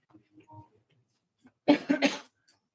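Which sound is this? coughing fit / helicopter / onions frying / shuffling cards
coughing fit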